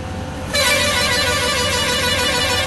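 Bus horns honking in Bus Simulator Indonesia, a loud sustained horn blare that starts abruptly after a brief rumbling lead-in and holds steady to the end, with no talking.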